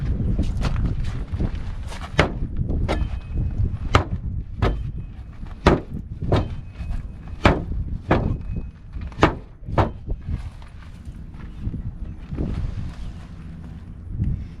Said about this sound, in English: Now I'm going to see how well the tip holds up, stabbing through the door.